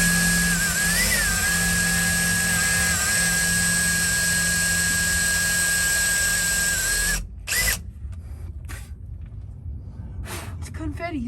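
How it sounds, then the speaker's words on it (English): A power drill bores a hole into the body of a Toyota Tundra pickup while a TransferFlow 46-gallon gas tank is fitted, whining steadily for several seconds before stopping, followed by quieter handling noises and people talking. "All right, so now we're gonna have to drill."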